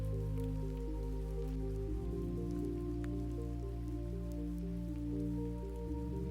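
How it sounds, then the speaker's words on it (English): Soft rain falls steadily as a faint, even patter under a low sustained ambient music bed, continuous throughout with no talking. "You may hear the rain changing slightly, becoming slower, softer."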